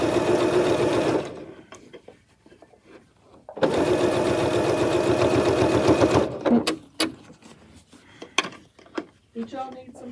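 A sewing machine stitches binding onto a quilt in two sustained, close bursts of rapid mechanical whirring, separated by quieter handling noises and light clatter.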